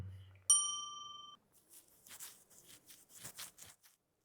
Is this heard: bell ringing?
yes